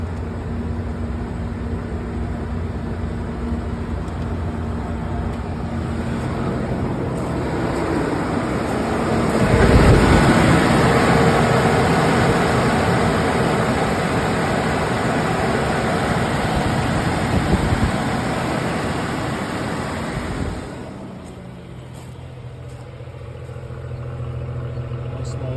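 A 1989 Toyota 4Runner engine cold starts and settles into a steady idle, a continuous close mechanical hum that swells briefly after the start and eases lower near the end.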